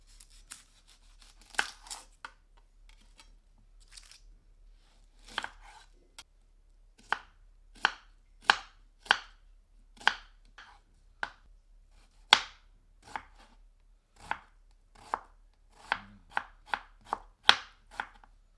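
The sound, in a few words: medium onion being finely chopped with a knife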